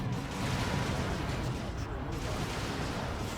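Guardsmen fire steady volleys at scouts in Dawn of War 2: Retribution, a dense, rumbling wash of gunfire and blasts that continues throughout.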